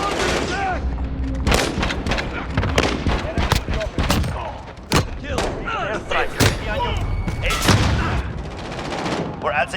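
Heavy gunfire and booming blasts during an airstrike in Call of Duty Modern Warfare, with loud repeated impacts and bursts packed closely together, while voices speak through the din.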